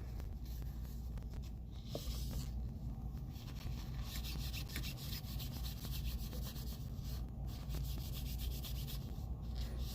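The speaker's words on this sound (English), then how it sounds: "Get some of that excess oil wiped off." A cloth wipes excess oil off a gun during cleaning, making close, continuous rubbing strokes in an even back-and-forth rhythm over a low background rumble.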